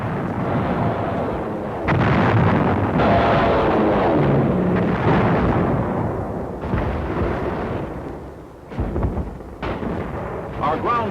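Heavy explosions from WWII Navy dive bomber attacks on Japanese batteries and defenses on Saipan, rolling booms and blasts in overlapping waves, loud and continuous with a sharper burst near the end.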